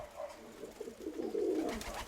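Pigeon cooing from domestic pigeons, including a blue male, in a loft: a short, soft, low throaty coo that swells in the middle and fades, alone with no talk.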